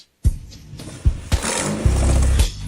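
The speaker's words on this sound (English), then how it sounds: "The exhaust deformation causes the sound to deepen." An old, once-flooded Toyota Prado 4000 with a deformed exhaust runs nearby, giving a rough, deep engine note broken by several sharp thumps and bursts before a sustained louder drone that cuts off at the end.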